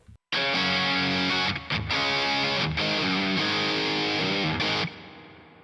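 An electric guitar runs through a 1987 distortion pedal with no delay, playing loud, thick distorted chords and riffs with brief breaks between phrases before the final chord fades out.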